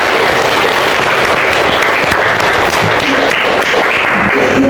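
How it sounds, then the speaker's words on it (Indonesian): Students in a classroom burst into loud, continuous applause, many hands clapping together in a dense, even roar with no pauses. "Tepuk tangan untuk semuanya."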